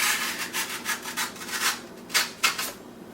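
A freshly sharpened knife slices through a cut in a series of short, rhythmic rubbing strokes, close and fairly quiet, with no voices.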